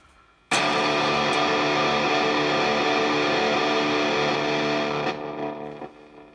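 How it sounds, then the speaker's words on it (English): A guitar with heavy fuzz distortion smeared through delay repeats, a loud buzzy wall of sound that holds for several seconds before fading and cutting off. "Why don't we try fuzz?"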